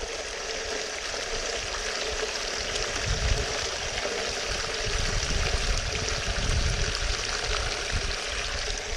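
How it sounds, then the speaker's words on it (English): Water tipped slowly into a dug hole, a steady broadband pouring and splashing rush that continues without a break, fairly loud and close. "I need to tip this water slowly."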